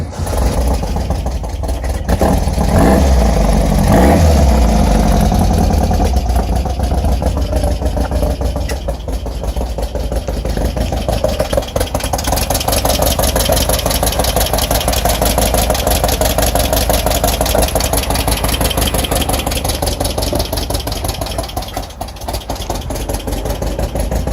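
An Empi Imp dune buggy engine runs loud and close after a short warm-up ride. It gives a steady rumbling idle with a rapid regular pulse throughout, plus a brief revving swell near the start.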